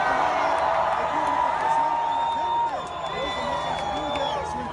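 A large rally crowd in Fountain Hills, Arizona cheers, whoops and applauds in a dense, steady roar, with scattered whistles rising above the noise throughout.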